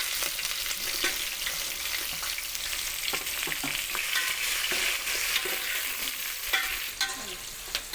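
Sliced onions and whole biryani spices sizzle and crackle in a hot pan while a spoon stirs them, giving a steady frying hiss with scattered scraping clicks and no voices.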